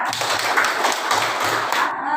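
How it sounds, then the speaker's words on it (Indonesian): Children clap their hands together in a quick, brisk burst of applause, close by, for about two seconds. "Tepuk tangan dulu Kak Rizka."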